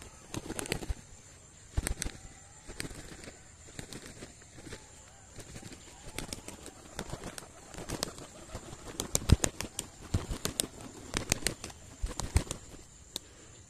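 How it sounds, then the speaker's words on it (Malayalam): Pigeons at dusk, with repeated wing flaps and scattered clicks against a faint hiss, soft cooing barely present, no talk. "ഗൈസ് പ്രാവ്"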